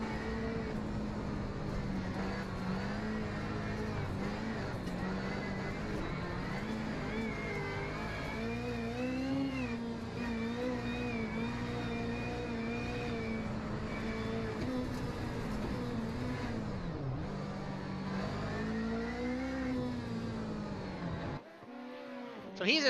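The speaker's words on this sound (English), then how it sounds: "Let's go on board Connor Parisi, car number 11, and look at his view of the circuit." Onboard a rallycross race car at Sonoma, the engine roars loud and close for the whole run, revving up and down through gear changes with rising and falling pitch, and a commentator talks over it.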